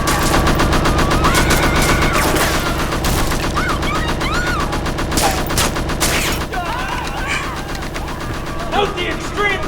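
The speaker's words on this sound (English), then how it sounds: "Note the extreme precision of 209's primary cannons." Rapid cannon fire bursts out in loud, dense volleys with mechanical clanks and crashes, voices talking under the din, from the ED-209 robot's primary cannons.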